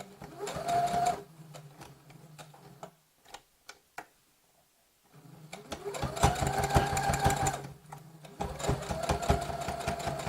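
A domestic sewing machine stitches fabric for reversible baskets in three bursts of fast rhythmic ticking hum, separated by a quiet pause with a few clicks, close and clear with no talking.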